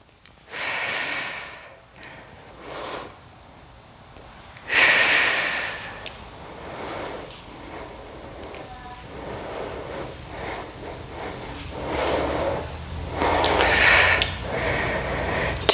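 Deep, audible inhales and forceful exhales during a beginner Pilates exercise with weights, repeated in slow rhythmic breaths close to the microphone.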